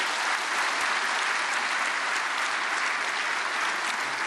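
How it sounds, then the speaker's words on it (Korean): Steady, dense applause from an audience welcoming a speaker at a Korean church prayer meeting for peaceful reunification, loud and continuous throughout with no pauses. "윤은주 박사님을 박수로 환영하시겠습니다"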